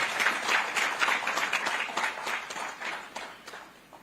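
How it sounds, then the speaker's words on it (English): Dinner guests applaud after a speech about Botswana's first president and the Botswana Democratic Party, giving a steady round of dense clapping at moderate distance that fades out toward the end. "So I think we need to clap for that."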